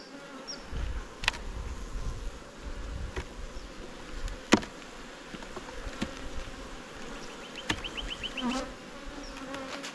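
A steady, close hum of many honey bees buzzing at an open hive in an Australian apiary, with occasional sharp clicks and knocks over the drone.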